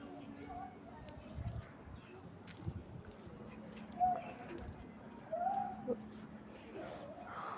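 Pigeons cooing faintly in the background behind a Tamil voice talking over Pokemon Diamond gameplay, a few soft low coos.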